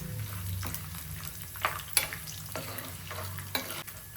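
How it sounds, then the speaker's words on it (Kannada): Chana dal and peanuts fry in a pan for mango chitranna, a steady sizzle broken by scraping stirs and a few sharper clinks, close and moderately loud with no talking. "ಕಡಲೆಕಾಯಿ ಬೀಜ ಇದನ್ನು ಚೆನ್ನಾಗಿ ಫ್ರೈ ಮಾಡ್ಕೊಳ್ಳಿ."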